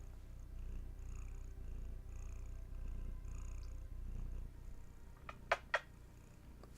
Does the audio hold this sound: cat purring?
yes